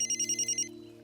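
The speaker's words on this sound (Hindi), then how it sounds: "फोन बज रहा है" A telephone rings in quick electronic pulses, about six bright bursts in under a second before stopping, over a steady low background hum with no talk.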